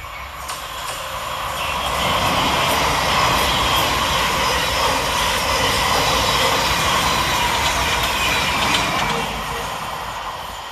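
A Govia Thameslink Class 700 train, unit 700-132, runs late through Salfords station on a Brighton to Cambridge service, a smooth rushing rumble that builds quickly, holds loud for several seconds, then eases off.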